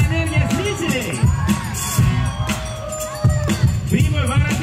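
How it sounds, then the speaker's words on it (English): Crowd at a youth Russian national championship rap battle for third place cheering and whooping, with loud bursts of noise rising and falling across the whole stretch amid general hubbub. "Round of applause."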